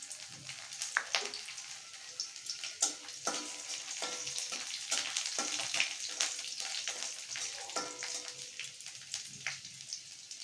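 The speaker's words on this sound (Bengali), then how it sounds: "রসুন কুচিগুলো একটু লালচে করে ভেজে নিয়েছি।" Chopped garlic with nigella seeds frying in oil in a kadai, a continuous crackling sizzle with sharp pops and occasional stirring, close and fairly even throughout.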